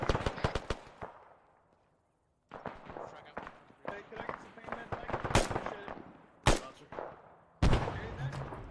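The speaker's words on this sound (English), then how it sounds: "It was a grenade from somewhere close." Sharp cracks and blasts from an ARMA 3 firefight, a nearby grenade explosion among repeated gunshots, loud isolated bangs spaced irregularly with decaying tails and a brief quiet stretch between bursts.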